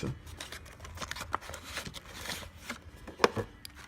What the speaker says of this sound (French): On va donc déballer ce kit.